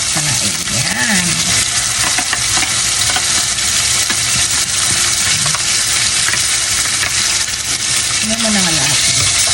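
Vegetables for chop suey sauté in a hot pan with a loud, continuous sizzle and scraping stir strokes close by, while a voice speaks briefly over the cooking.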